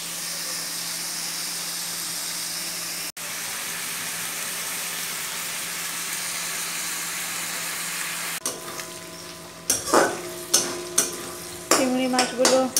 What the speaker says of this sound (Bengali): চিংড়ি মাছগুলোকে ভালো করে ভেজে নিই।